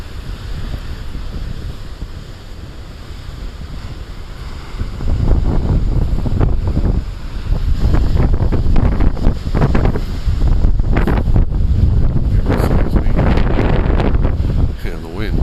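Big ocean waves and strong wind at Beavertail Lighthouse: heavy surf surges in repeated loud bursts over a constant roar of wind buffeting the microphone.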